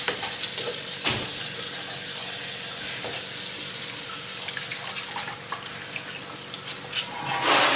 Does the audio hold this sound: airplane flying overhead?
no